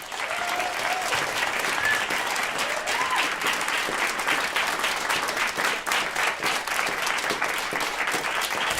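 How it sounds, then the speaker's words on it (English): An audience applauds continuously, dense clapping from a sizable crowd filling the room at steady volume from start to finish. "So another round of applause."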